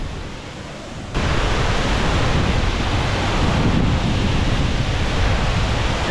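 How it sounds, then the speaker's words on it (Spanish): The waterfall at Mexicalcingo de los Granados roars as a dense, steady rush of falling water that jumps louder after about a second and then holds constant, with wind noise and no talking. "la cascada."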